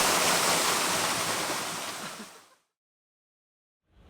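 Surf washing onto a beach in Fajardo, Puerto Rico, a loud broadband rush that fades out over about two and a half seconds, then silence before the next wave starts to rise.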